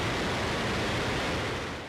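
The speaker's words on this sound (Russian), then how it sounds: "Сейчас происходит запуск ракетного двигателя" A Russian RD-180 rocket engine roars through a test firing as a dense, continuous broadband rush like a waterfall, loud and steady throughout and easing slightly at the very end.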